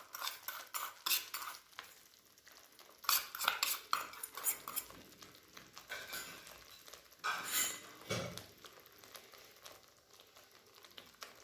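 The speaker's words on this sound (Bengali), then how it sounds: "এবার এটা 5 মিনিট মতন আমি কষাবো।" Spices (chili powder, salt, cumin and turmeric) are stirred in a pan, with a spoon clanking and scraping against the metal in irregular bursts over a faint sizzle.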